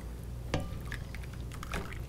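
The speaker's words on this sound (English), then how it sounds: "I'm just gonna stir it." Food being stirred in a pot, with a sharp scrape near the start and soft, irregular wet stirring and sloshing sounds that follow quietly in a kitchen.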